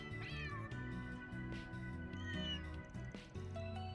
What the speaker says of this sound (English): Looks like the cats have mellowed out a bit